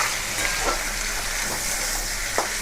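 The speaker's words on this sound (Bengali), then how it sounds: "সুন্দর করে পেঁয়াজগুলোকে আমি ভাজবো।" Onions frying in a pan with oil for a prawn dopiaza, giving a steady close sizzle and hiss with a few soft stirring scrapes, no voices.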